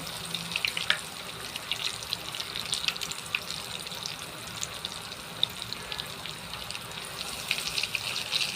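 Pieces of chicken sizzle in hot oil in a pan, a continuous hissing, bubbling sound with scattered sharp pops, close by and without talk.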